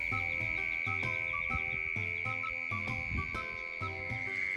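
Dense chorus of crickets trilling steadily outdoors at night in an off-grid rural yard, a loud continuous high whine with pulsing chirps layered throughout and no voices.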